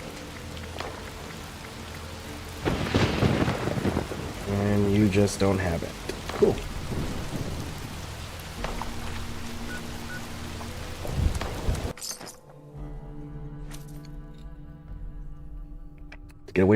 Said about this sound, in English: Thunderstorms for some reason.